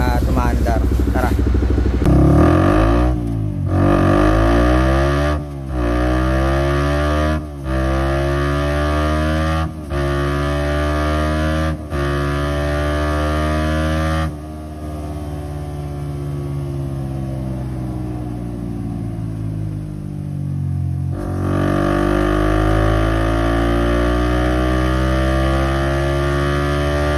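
A Honda Raider 150 Fi motorcycle engine running after an ECU remap, blipped in repeated sharp revs that rise and fall, then held in a longer sustained drone, loud and close with a steady hum underneath.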